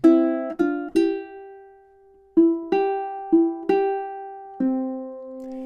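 Ukulele playing a short filler phrase from a song, a series of plucked notes and strums with ringing decay, clear and close with a pause in the middle, no voices.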